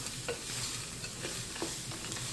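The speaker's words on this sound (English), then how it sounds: "And I'm just going to stir that in. Get that pasta all coated." Pasta is stirred inside an electric multicooker, with soft scraping strokes against the pot over a faint steady sizzle, close and quiet, without any speech.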